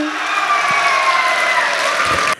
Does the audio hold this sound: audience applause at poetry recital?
yes